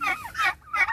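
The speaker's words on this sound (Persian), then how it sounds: "ایو فزان مرغوی دشتی" Pheasant, a wild fowl kept on a farm, calls loudly close by in three harsh, rising bursts within a second, with brief gaps between them.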